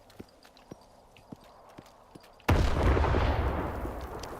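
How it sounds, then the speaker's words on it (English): A grenade detonates with a sudden, loud, broadband blast in the STALKER video game, following a stretch of sparse, faint clicks and thuds; the explosion's roar then decays slowly over the next two seconds. "Oh, not a grenade."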